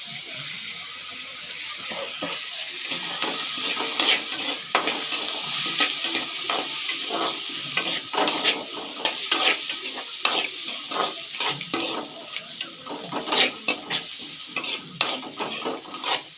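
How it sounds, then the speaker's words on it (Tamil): Onions sautéing in a pan, a continuous close sizzle with irregular stirring and scraping strokes that grow busier over time, no voices. "இப்போ அது பொறிஞ்ச உடனே முதல்ல வெங்காயம் கொஞ்சம் வதக்கிக்கலாம்"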